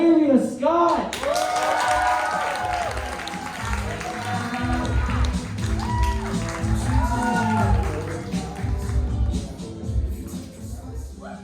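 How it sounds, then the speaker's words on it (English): A college stand-up comedy audience gives a comedian a sustained round of clapping and cheering, loud and crowded throughout, with prominent voices and shouts layered over the applause. "Please give a warm round of applause for Flavia Scott."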